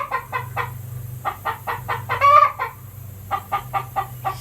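Hens cackle after laying an egg: a loud, close run of repeated clucks in quick rhythmic bursts with one drawn-out squawk in the middle, and no talking.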